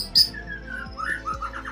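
An oriental magpie-robin (murai batu) gives short bright chirps and whistled notes, one sharp call near the start and a quicker cluster later, close and clear over a quiet background.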